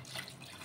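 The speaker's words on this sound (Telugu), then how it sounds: "2 కప్స్ వాటర్ అయితే వేస్తున్నాను." Water pours steadily into a pot holding jaggery, a soft continuous splashing rush lasting under a second.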